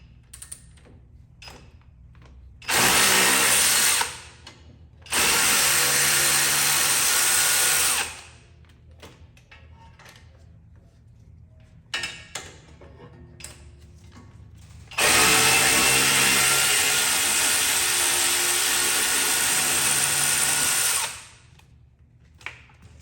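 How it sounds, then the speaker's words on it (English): A power tool, likely an impact wrench, loosens the 17 mm brake caliper bracket bolts on a 2006 Lexus RX400H, running in three loud whirring bursts of a few seconds each, separated by quieter garage gaps. "remove the caliper bracket bolts, which are 17s"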